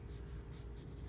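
A pencil scratching steadily across paper while sketching anatomy, a brief continuous close graphite stroke.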